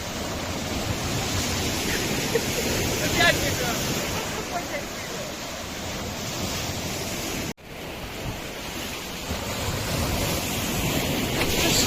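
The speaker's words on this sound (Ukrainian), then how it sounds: "Вітер піднявся" Strong wind roars steadily outdoors, buffeting the microphone with a broad rushing noise that cuts out briefly for a moment before resuming.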